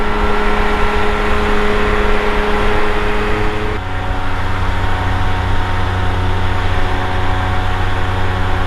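A Bushbaby light aircraft engine roars at full power during the takeoff roll, a loud, continuous droning hum that shifts pitch slightly partway through as speed builds, with wind noise and no talking.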